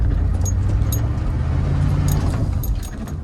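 A 1980 Chevrolet Bel Air wagon's engine runs close by with a loud, steady low rumble. Light metallic clinks ring over it.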